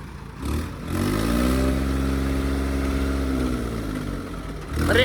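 A tractor engine at a tractor pulling contest revs hard and close, holding a loud, strained drone with a steady pitch for several seconds before easing off, with no talk over it.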